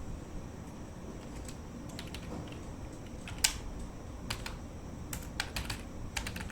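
Code is typed on a computer keyboard as quiet, irregular bursts of key clicks in a still room, with one sharper keystroke standing out midway.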